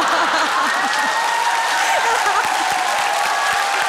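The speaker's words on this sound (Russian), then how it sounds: "Ваши аплодисменты" A studio audience at a comedy TV show applauds loudly and continuously, a thick even wash of clapping throughout.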